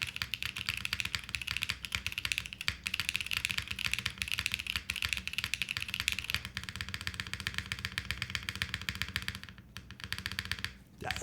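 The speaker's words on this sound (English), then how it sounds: "That's a very deep, solid spacebar." Rapid, steady typing on a Think6.5 V3 mechanical keyboard without foam, its deep, solid spacebar thudding among dense, close keystrokes that run almost continuously before a brief pause near the end.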